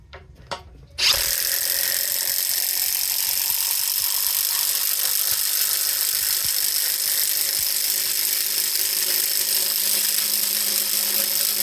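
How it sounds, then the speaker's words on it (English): After a brief clatter, a Metabo HPT 36V cordless driver on a T-PWR battery drives a half-inch by 10-inch lag screw into a 6x6 post with a loud, unbroken, close whine that lasts to the end. "Here's the T-Power, fully charged, driving a 1/2 by 10-inch lag into a 6x6."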